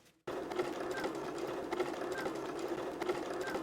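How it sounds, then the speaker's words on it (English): A sewing machine starts up and runs steadily, stitching Velcro onto fabric for a yoga mat bag, with an even, rapid mechanical chatter up close and no voices. "Now we're gonna sew our Velcro on"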